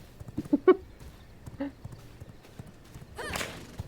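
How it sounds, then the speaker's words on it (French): A horse in the video game V Rising clip-clops in quick hoofbeats, then lets out a clear, wavering whinny near the end, with faint voices underneath. "attention, cheval là."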